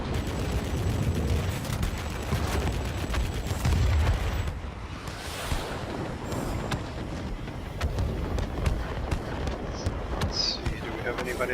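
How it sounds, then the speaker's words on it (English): Fighter guns on a Messerschmitt Me P 1101 in World of Warplanes rattle in rapid, dense bursts over engine noise and the clatter of game combat, and a voice talks briefly over the firing. "Short bursts, so we don't overheat our guns."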